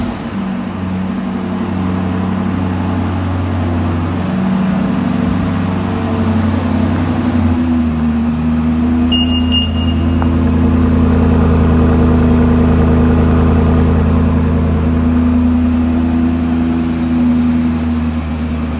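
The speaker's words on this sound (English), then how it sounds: "And the engine starts for you like that." A BMW Alpina XB7, remote-started, idles with a steady low engine hum that holds evenly throughout, with one brief faint chirp partway through.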